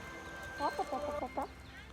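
Chickens clucking in a short run of close, rhythmic calls outdoors on Kauai, Hawaii, over a quiet background.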